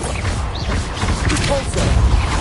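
Bombarda blasting spell impact in Hogwarts Legacy, a dense, loud crashing burst within continuous battle noise and low rumble, with brief thuds layered throughout.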